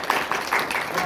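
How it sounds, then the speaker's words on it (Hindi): Applause from an audience at a gurukul gathering in Ambala, a short burst of dense clapping heard at moderate distance, with voices mixed in underneath. "जोरदार ताली"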